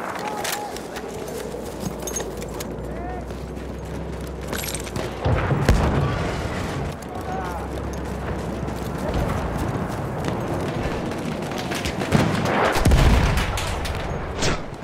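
Battlefield 1 Conquest multiplayer battle with machine gun fire and booming blasts amid a continuous din, with shouted voice lines and other battlefield noise throughout.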